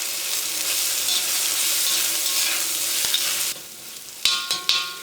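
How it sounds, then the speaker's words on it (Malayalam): Sliced onions with ginger garlic paste and curry leaves fry in a pan for capsicum chicken masala, a loud steady hiss that drops near the end, followed by a few sharp metallic stirring knocks. "ഇതിലേക്ക് നമ്മൾ സ്ലൈസ് ചെയ്ത് വെച്ചേക്കുന്ന സവോള ചേർക്കാം."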